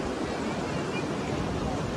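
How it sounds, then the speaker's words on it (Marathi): Surf at Shrivardhan beach on the Konkan coast makes a continuous broadband wash, moderately loud and unbroken, with no distinct breaks between waves. "तुम्ही बघू शकता माझ्या मागे लाटा आहेत."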